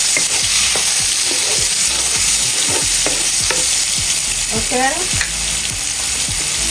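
Diced onion frying in a pan for Jamaican chicken curry, a loud continuous sizzle with regular scraping stirs and a brief clatter near the end, close up; one short spoken word is heard at the start.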